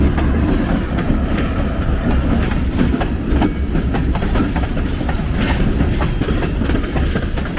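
A train rumbles steadily past in Trenton, close and loud, with rhythmic clickety-clack of wheels over rail joints throughout.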